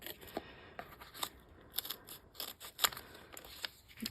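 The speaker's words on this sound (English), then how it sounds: "I'm just going to cut around this with my snips to cut off the piece that I'm going to use" Snips cutting around a piece of card, a series of short crisp snipping clicks at irregular intervals, close and fairly quiet, with no talking.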